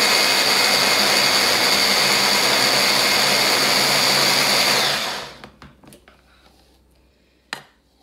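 A blender whirs through an avocado salad dressing, a loud steady high-pitched motor roar for about five seconds that cuts off abruptly, followed by quiet clinks and a brief knock.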